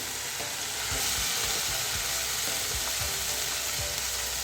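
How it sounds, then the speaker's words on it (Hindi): Egg masala spices frying on a high flame in a pan, a steady close sizzle with soft scraping stir strokes throughout, no voices. "इसको हम अच्छे से मिक्स करेंगे और थोड़ा हाई फ्लेम पर हम इसको भूनेंगे"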